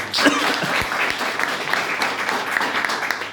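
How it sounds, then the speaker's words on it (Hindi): A group on a bus gives a newcomer loud applause, a dense, continuous clatter of clapping filling the moment from start to finish. "आप एक बार जोरदार तालियां दीजिए"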